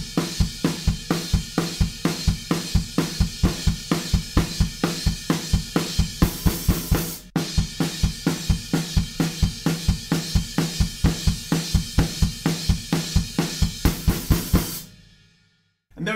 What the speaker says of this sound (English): we have four snares to the bar, kick drums filling in the gaps,